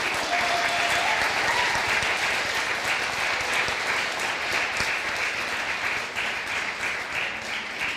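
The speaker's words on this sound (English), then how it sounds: "Well, with that, let's give a round of applause." An audience at a conference session on farming bursts into sustained applause, a dense, steady wash of many hands clapping for about eight seconds that tapers slightly near the end.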